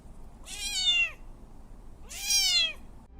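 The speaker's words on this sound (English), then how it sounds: "A kitten got trapped under the wheel and was meowing in terror." Two loud, drawn-out meows from a terrified kitten trapped under a wheel, close by, separated by a short pause, over faint background noise.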